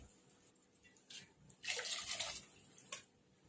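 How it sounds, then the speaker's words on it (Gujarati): A brief splash of a glass of water poured into a pot of boiled moth beans for Pune misal, quiet and close, followed by a small clink. "હવે એમાં 1 ગ્લાસ પાણી એડ કરીશું આપણે"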